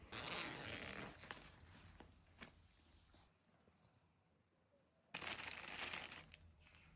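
Zipper and crinkling fabric as the carry bag of a 120 x 120 x 190 cm pop-up camping changing tent with toilet and shower use is unzipped and pulled open, close and fairly quiet, with a louder rustling burst near the end.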